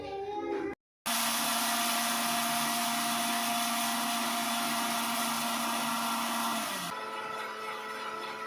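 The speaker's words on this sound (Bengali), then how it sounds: "মিক্সি করব।" A mixer grinder grinding puffed rice runs at a loud, steady, high-pitched whine, starts abruptly after a short pause and then shifts down in pitch near the end while still running.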